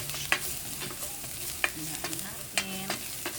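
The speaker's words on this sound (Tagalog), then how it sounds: "Okay, lagay na po natin ang bawang." Garlic sautéing in a pan for a stuffed egg dish, with a steady low sizzle broken by a few sharp clinks of a utensil stirring against the pan, close and moderately loud.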